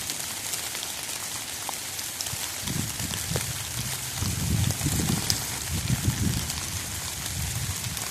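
Steady rain patters outdoors in Ohio woodland, forming a continuous, fairly loud wash of drops. Heavier low thumps of water join in partway through, and no one speaks.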